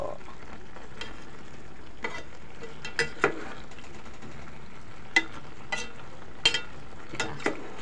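Tofu and pork adobo stirred in a frying pan, with a soft continuous sizzle under scattered scrapes and light clicks of the utensil, steady and fairly quiet, no talking.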